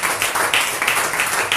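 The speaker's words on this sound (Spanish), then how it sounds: "Denle un aplauso al Señor" A church congregation applauds together, dense continuous clapping close and loud in short overlapping bursts.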